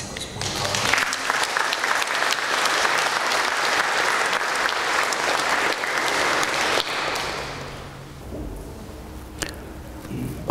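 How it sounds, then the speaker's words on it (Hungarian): Congregation in a Catholic church in Hévíz applauds to welcome a new choir member, a dense, sustained round of clapping that fills the space for about seven seconds before thinning and fading out. "egy nagy tapsal köszöntsük az új karmagyarát"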